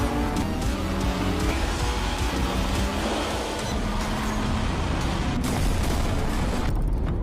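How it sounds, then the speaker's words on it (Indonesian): Supercars racing on a street, including a red Ferrari overtaking, with loud engines roaring close by, tires squealing and cars rushing past in a dense, continuous burst. "balapan mobil supercar liar, di mana di tengah balapan, pengemudi mobil Ferrari merah menyalip lawannya"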